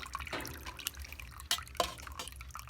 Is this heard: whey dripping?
yes